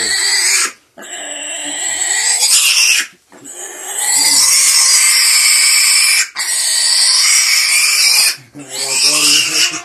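Orphaned wild boar piglets squeal loudly and repeatedly at close range in long, piercing shrieks separated by short breaks, rescued by a man on Muhu island, Estonia.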